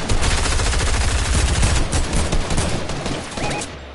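Dense, loud gunfire in Fortnite, with rapid overlapping shots crackling almost continuously for the whole stretch and easing off slightly near the end, where a sniper shot could be mixed in. No one speaks.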